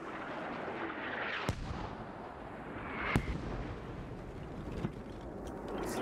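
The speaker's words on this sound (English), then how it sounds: "Those mortars are still not hitting anything." Mortar explosions in the SquadOps military shooter, three sharp distant-sounding booms at irregular intervals over a dense, steady rumble of battlefield noise, with no talk.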